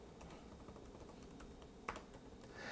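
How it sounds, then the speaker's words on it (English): Quiet, steady keyboard typing as a name is entered on a computer keyboard, with soft, rapid key clicks running through the whole stretch and no one talking. "And then you type in your name."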